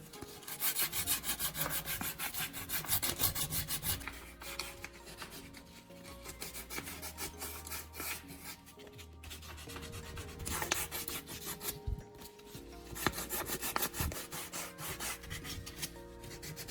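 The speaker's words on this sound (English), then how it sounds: "Take a piece of fine sandpaper and lightly clean both battery terminals until the metal looks bright again." Fine sandpaper rubbing back and forth over the metal terminals of an old battery, a steady close scratchy rasp with continuous strokes throughout and no talking.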